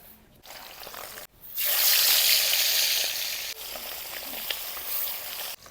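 Whole small singi catfish, rubbed with turmeric and salt, sizzle loudly in hot oil, a steady crackling hiss that swells after a brief pause and keeps spitting, with a few sharper pops near the end.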